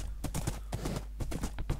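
Horse hooves clip-clop in steady, quick beats as the animal trots along in Minecraft, clear and close, with no talk over them.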